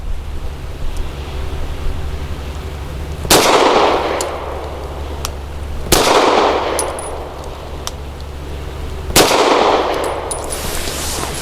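Three loud, sharp shots from a Walther PDP 4-inch compact pistol firing SIG V-Crown 147-grain jacketed hollow points ring out a few seconds apart, each followed by a brief echoing decay over steady background noise outdoors.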